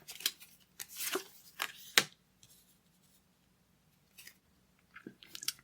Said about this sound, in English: One more shuffle for luck.